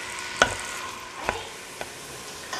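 Green onion, garlic and shallots sauté in a pan, giving a soft sizzle broken by three or four close, sharp clicks of a utensil stirring.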